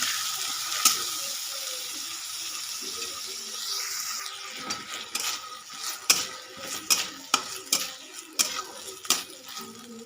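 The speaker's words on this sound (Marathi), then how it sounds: "आता तांदूळ टाकते हे पण थोडस फ्राय करून घेणार आहे" Rice frying in a pan for rice kheer: a steady, close sizzle hiss broken by sharp scraping clicks from repeated stirring, with no talk.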